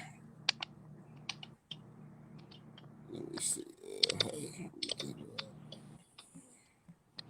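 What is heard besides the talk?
typing on a keyboard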